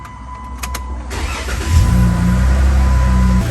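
A Jeep engine cranks over after a few clicks, catches and settles into a steady, close idle that runs to the end with no talk.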